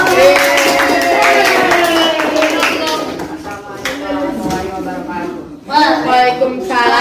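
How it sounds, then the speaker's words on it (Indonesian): Seventh-grade students in a classroom clap their hands in a rhythmic group clap, loud and close, overlapping with voices and chanting throughout. "Tepuk tangan."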